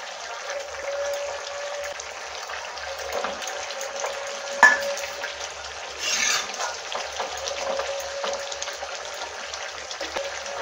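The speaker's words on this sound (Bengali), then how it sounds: "আলু আর ফুলকপি হাফ সেদ্ধ হয়ে গেছে। এবার আমি ভাজা মাছগুলো দিয়ে দেবো।" Fried rohu fish being added to a simmering potato and cauliflower curry and stirred, giving a steady low sizzle and bubbling with a few soft clinks of a spoon against the pan, close and moderately quiet.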